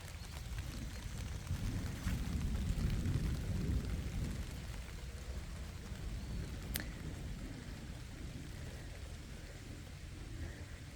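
Steady rain falls across a woodland garden in Missouri, a dense even hiss with a low rumbling wash underneath, continuous throughout at moderate loudness with no voices.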